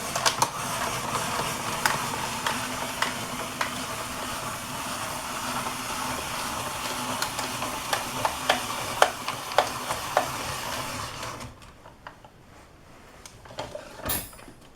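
Vegetables being spiralized on a Brieftons BR02 countertop spiralizer, a steady grinding, crunching churn with rhythmic clicks from the turning handle. It runs continuously, then cuts out and leaves near silence with a brief knock at the end.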